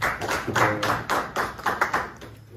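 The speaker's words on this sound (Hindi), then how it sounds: "आप अपने लिए एक सब तालियां बजाएं" Audience clapping at an Urdu mushaira poetry gathering: a handful of distinct, fairly close rhythmic claps in uneven bursts, loud then fading near the end.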